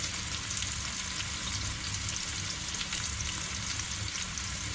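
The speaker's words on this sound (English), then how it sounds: "what you're really waiting for is for the edges of these onions to start becoming a little bit browned" Onions frying in a pan as the base for a Trinidadian-style chicken curry, a steady, dense sizzle that holds even throughout, close and without talk.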